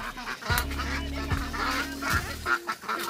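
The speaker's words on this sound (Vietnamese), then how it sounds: "à vịt này là vịt quay" Roasting ducks on a rural farm give a run of loud, nasal honking quacks, several overlapping calls close by, followed by a shorter squawk near the end.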